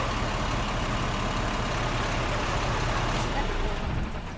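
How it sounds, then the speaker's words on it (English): A fire truck engine with its pump engaged rumbles steadily and loudly at close range, a heavy, continuous drone with no clear cut-off, amid outdoor background noise. "And you can shut the truck down"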